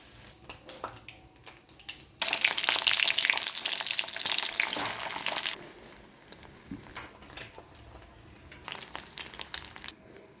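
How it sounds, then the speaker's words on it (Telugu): Boiled eggs, cut open, shallow fry in hot oil. A loud bubbling sizzle bursts in and runs for about three seconds, then drops to a softer crackle with light stirring and clinks. "తీసి కట్ చేసుకున్న ఎగ్స్ ఆయిల్లో షాలో ఫ్రై చేయాలి."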